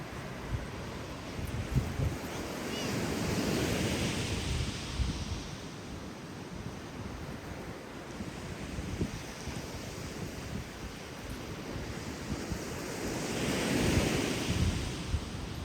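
Wind and surf on the beach at Fort Ebey State Park on Whidbey Island, Washington, with broad rolling swells of wave wash rising and falling under steady wind rumble on the microphone, fairly close and continuous.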